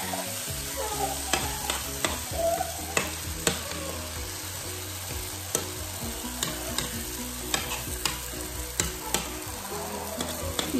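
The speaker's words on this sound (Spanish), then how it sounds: "Ahora vamos a echar la hamburguesa" A hamburger patty fries in a pan with a continuous close sizzle, punctuated by regular sharp scrapes and taps of a spatula against the pan.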